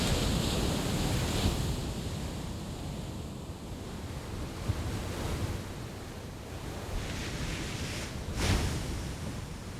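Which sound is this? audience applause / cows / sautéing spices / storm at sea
storm at sea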